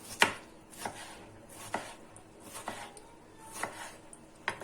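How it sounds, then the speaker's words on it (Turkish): A knife chops through tomato on a cutting board for tomato-sauce pasta, a series of separate sharp taps spaced irregularly, close and clear with no talking. "Yine domatesimi de yemeklik şekilde doğrayacağım."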